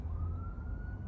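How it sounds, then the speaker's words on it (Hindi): A passing ambulance siren holds a single steady wailing tone over a busy street backdrop, close to a crowd gathered on a college convocation day in Canada. "एम्बुलेंस आ गई, तो दिख नहीं रही"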